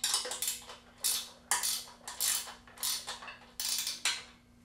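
A WORKPRO ratcheting combination wrench being worked, giving a quick series of close, bright metallic clicking bursts in an uneven rhythm with short pauses between strokes, no talking.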